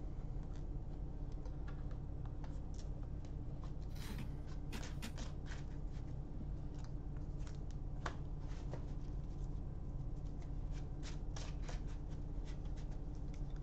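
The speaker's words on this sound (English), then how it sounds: "I'll shuffle." Playing cards being shuffled during a tabletop Magic: The Gathering Commander game, a steady soft riffle and scrape of card stock with a few sharper snaps near the middle, quiet and close over continuous background noise.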